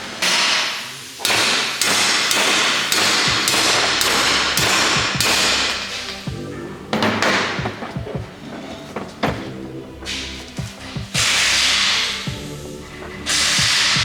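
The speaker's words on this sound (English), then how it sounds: "we're just gonna give it a few persuasive hits with a hammer," Hammer striking a socket extension to drive a rear frame bushing out of a Honda Ruckus scooter frame: a run of sharp metallic blows in quick rhythm, then a pause and further loud hits, close up with no talking.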